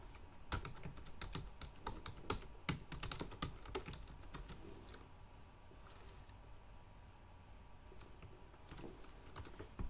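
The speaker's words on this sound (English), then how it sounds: "So you just type raise event, one word." Rapid keystrokes on a computer keyboard while entering code in Microsoft Access, an uneven run of close, crisp clicks that keeps going with short pauses in between.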